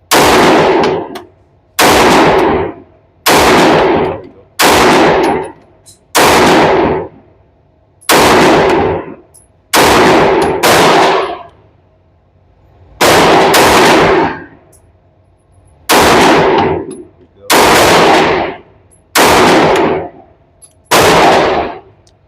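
Single shots from an M&P Metal Carry Comp pistol, about fourteen sharp, loud reports spaced roughly a second or two apart with a brief longer pause midway, echoing at a range.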